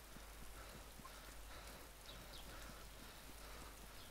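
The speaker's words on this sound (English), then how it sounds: "Look at the rain effects, guys." Rain in the video game DayZ, a steady soft hiss of falling drops that holds at an even level throughout, with faint low rumble underneath and no voices.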